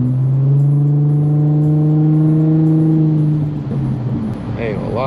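An Infiniti G35 with its VQ engine pulls hard in the rain, a loud steady drone rising in pitch for about four seconds before easing off and revving again near the end.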